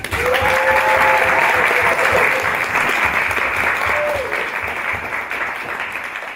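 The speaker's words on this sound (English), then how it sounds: "So can we give them a round of applause?" A theater audience gives warm, loud applause for a youth ensemble's original production, thick sustained clapping that tapers slightly toward the end, with a few faint voices and a whoop or two mixed in.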